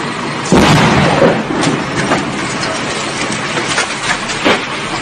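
A sudden loud blast bursts out as a burning car explodes on a street, followed by a roaring, crackling rumble with further sharp pops, close and harsh throughout.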